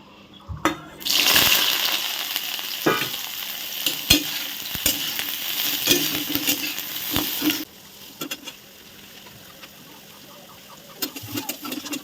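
Spice paste frying and being stirred in a pan, a loud sizzle with scraping spatula strokes that runs for several seconds, then drops to quieter sizzling with occasional clinks.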